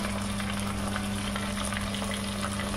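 Ginger garlic paste frying in a pan with turmeric, chilli, cumin and coriander powders for a chicken bhuna masala, giving a steady, close, continuous sizzle with no talk.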